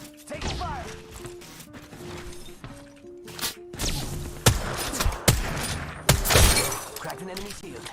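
Gunfire in the battle royale game Apex Legends: bursts of sharp cracks and impacts with shattering shield hits, loud and close, punctuated by several heavy blasts, under game character voice lines.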